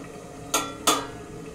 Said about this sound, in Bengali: দেখো এবার এটাকে আমি আরো 2 থেকে 3 মিনিটের জন্য চাপা দিয়ে দিচ্ছি।